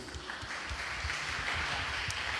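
Applause from a congregation at a church missions conference, a steady dense wash of clapping heard at a moderate distance and lasting throughout.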